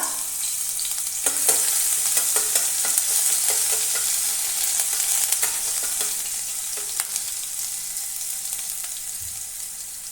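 Ginger-garlic paste hits hot coconut oil for an egg masala roast, producing a loud, continuous hissing sizzle with repeated stirring scrapes through the first half, then fading slightly.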